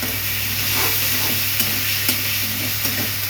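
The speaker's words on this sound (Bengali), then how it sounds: "রসুন বাটাটা দিয়ে দিচ্ছি। একটু ভাজা হয়ে যাক" Garlic paste fries in a hot pan with a steady, loud sizzle and hiss, punctuated by a few soft stirring scrapes, with no talking.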